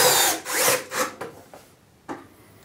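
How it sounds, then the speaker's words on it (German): Power drill driving screws from below into a wooden shelf built for L-Boxx cases: loud whirring bursts of the drill biting into wood, then shorter spins and a final brief burst, with no talk. "Müssen wir doch tatsächlich noch von unten schrauben."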